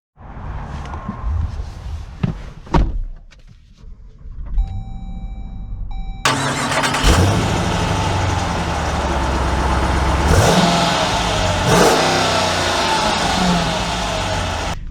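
A 2023 Jeep Grand Cherokee Summit Reserve with a 5.7 Hemi V8 and high altitude package: a few soft clicks and a brief whine, then the V8 cranks and catches about six seconds in, settling into a steady, loud idle with occasional revs.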